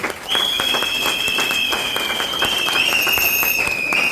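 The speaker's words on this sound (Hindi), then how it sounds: "उसका जोरदार ताली डिएक्शन के फाउंडर के लिए" A crowd at a DXN business event claps loudly and continuously, dense applause filling the space while a high whistle-like tone rises over it.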